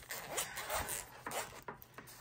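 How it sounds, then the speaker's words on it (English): A YKK zipper on a Zero Grid passport wallet is pulled in several quick, close zipping strokes, some short and scratchy, heard near and fairly quiet. "So it zips all the way around"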